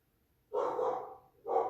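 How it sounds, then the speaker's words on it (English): A dog barks twice indoors, two short, moderately loud woofs about a second apart, with silence before them. "she's barking"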